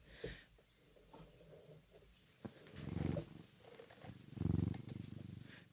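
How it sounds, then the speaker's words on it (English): A cat purrs close to the microphone in slow, rumbling waves, with a few soft rustles between breaths. "let me hold up Cricket to the microphone and see if you hear his purring."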